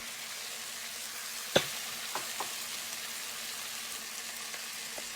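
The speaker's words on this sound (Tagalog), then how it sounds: "Tapos yung mussels, pwede na natin igisa." Mussels sauté in a pan with tomatoes, giving a steady soft hiss of frying, fairly faint and close, with one sharp clink followed by a few lighter taps, and no talking.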